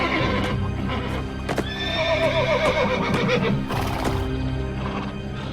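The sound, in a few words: horse stallion neighing in panic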